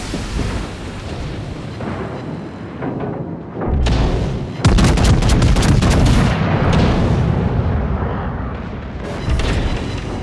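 Battleship main guns firing in World of Warships, a rumbling barrage of deep booms and explosive blasts that swells into a dense, loud volley of cannon fire, with another heavy salvo near the end.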